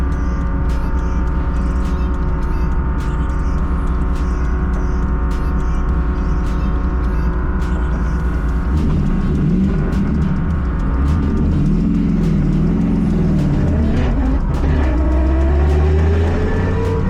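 V8 race car engines rumble steadily in the Donington Park pit lane, then one revs up and pulls away with rising pitch, loud and close, several cars idling and moving off one by one.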